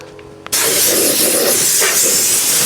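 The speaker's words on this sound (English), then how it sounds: "I'm just going to get the air line, make sure there's nothing untoward" A compressor air line suddenly opens into a loud, steady blast of hissing compressed air that continues unbroken after a brief quiet start, with a faint click just before it begins.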